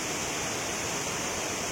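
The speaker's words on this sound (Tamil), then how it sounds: "அருவி சவுண்டே ரொம்ப அதிகமா இருக்கு, ஜாஸ்தியா." Koraiyaru Falls in Tamil Nadu roars as a steady, dense broadband rush of falling water, loud and close and unbroken throughout, with no voices over it.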